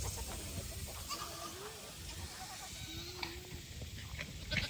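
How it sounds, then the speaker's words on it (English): Goats on a farm bleating in a few short calls amid outdoor ambience, with other livestock and fowl sounds faintly mixed in; no talk. "Looks like the goats are coming back around."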